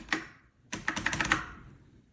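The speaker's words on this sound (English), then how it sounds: "The click of the Model M's keys is what makes this keyboard so iconic." IBM Model M buckling-spring keyboard keys clack sharply, one lone press followed by a quick burst of about six loud, crisp clicks typed close up in a quiet room.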